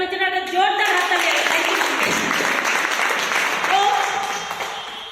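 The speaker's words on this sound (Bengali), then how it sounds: "সুচিত্রা ম্যামের জন্য একটা জোরদার হাততালি" Indoor audience gives a loud, sustained round of applause for a woman presenter at a company gathering, with many hands clapping densely throughout and a voice calling out over it near the start.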